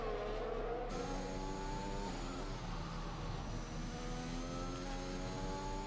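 Simulated race car from an Xbox racing game threading through chicanes at the Mexico circuit, a steady loud engine drone with rising and falling rev tones and gear shifts, continuous throughout with no talk.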